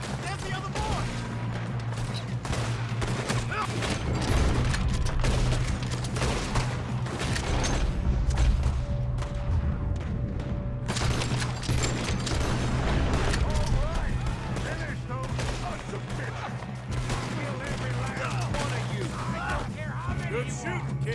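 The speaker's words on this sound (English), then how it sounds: "Good shooting, kid." Red Dead Redemption 2 shootout with sustained rapid gunfire, overlapping rifle and pistol shots and occasional heavier booms over steady background noise, while voices shout and talk in the middle of the fight.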